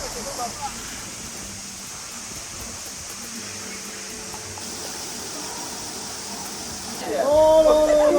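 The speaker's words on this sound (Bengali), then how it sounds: "ঝর্ণাটা দেখেন, জাস্ট ওয়াও।" A waterfall near a glass bridge outside Guangzhou, China, gives a continuous broad rushing hiss at moderate level. A brief brighter tonal sound rises near the end.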